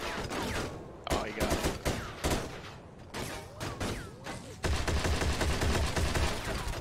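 Gunfire in Socom 2 cracks out in rapid repeated bursts and volleys, loud and close, with a steadier stretch of automatic fire near the end.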